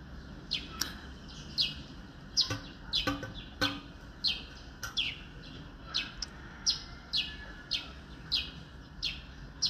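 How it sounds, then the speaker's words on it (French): Wild birds chirp and call in a steady scatter of short, bright notes, some close and some farther off, against a quiet outdoor background with no talking. "Oui, les oiseaux."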